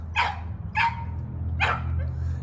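Tactical breed dogs, including a heavy-headed, broad-chested male, bark three times in loud, sharp bursts close by over a low steady hum.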